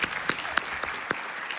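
Audience at a speedrun charity marathon event cheers and applauds, a dense steady wash of clapping with a few sharper claps standing out, no speech over it.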